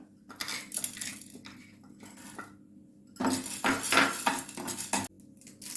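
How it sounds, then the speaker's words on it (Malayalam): Toor dal roasting in a pan, dry lentils rattling and scraping under a metal spoon in bursts of brisk stirring, close and clear with short pauses between. "ഇനി ഞാൻ വറക്കുന്ന തുവരപ്പരിപ്പാണ് കേട്ടോ"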